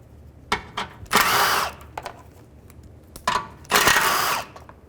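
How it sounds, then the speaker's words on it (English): Three 10mm bolts being removed with a 10mm socket on a power tool, beneath a panel near the radiator of a 2011-2014 Chrysler 200: two sharp whirring bursts with short clicks and rattles between them, close up. "take these three 10mm bolts out. Just use a 10mm socket."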